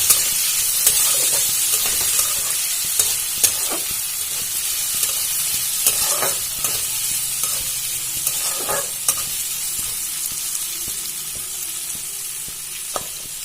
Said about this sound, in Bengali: আমি সবজিটা খুব ভালো করে ভেজে নেব যাতে এতেই সেদ্ধ হয়ে যায়